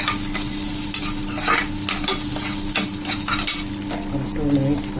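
Spices sautéing in hot oil in a pan for a crab gravy, a continuous close sizzle with repeated scraping strokes of a utensil stirring against the pan, no voices.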